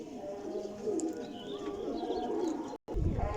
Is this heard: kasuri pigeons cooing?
yes